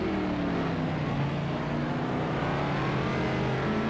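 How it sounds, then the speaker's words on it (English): Racing car engines in a video game race at Hockenheimring drone and rev steadily, a continuous high-pitched whine with shifting pitch, loud and unbroken with no voices. "The noise from these engines is absolutely incredible."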